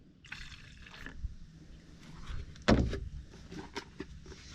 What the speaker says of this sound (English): We'll get a splash of bleach.